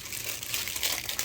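Crinkling plastic wrapper around a Nike Air Zoom GT Cut 2 shoe box rustles and crackles steadily up close, a soft continuous crumpling with no voice over it.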